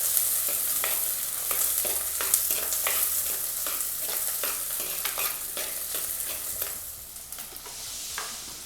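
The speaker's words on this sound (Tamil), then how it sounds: "இது கொஞ்சம் ஒரு நிமிஷம் வதங்கட்டும். இதை ஒரு நிமிஷம் வதக்கிடலாம்." Steady sizzling of garlic frying in a clay pot for capsicum chutney, with intermittent stirring scrapes, close and continuous, no talking.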